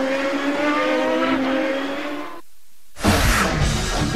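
A Champ Car race car, Paul Tracy's, runs in Saturday practice at the Long Beach Grand Prix street circuit. Loud engine roar sweeps past with a rising whine, cuts to a brief near-silence, then a harsh burst of engine noise returns.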